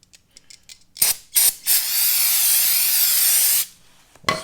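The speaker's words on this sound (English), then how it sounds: "I'm just going to use some brake cleaner." A few short metallic clicks, then a steady, loud aerosol spray of brake cleaner hissing for about two seconds, followed by another quick spray burst.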